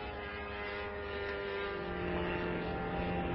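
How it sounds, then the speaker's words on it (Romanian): A military attack drone drones overhead with a steady buzzing propeller-engine hum, continuous and moderately distant, near the Danube border with no voices in the clip. "Uite-o, mă! Uite drona!"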